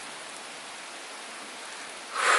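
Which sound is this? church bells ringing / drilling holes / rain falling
rain falling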